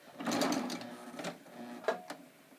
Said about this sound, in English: I'm going to start serging